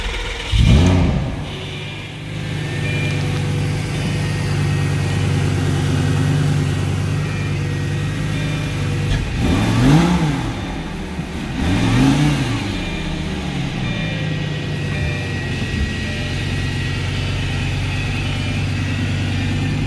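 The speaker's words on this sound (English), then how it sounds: "Now you know how a Lambo sounds." A Lamborghini engine revs loudly and close by, climbing in pitch through several sharp blips over a steady idle, with no talking.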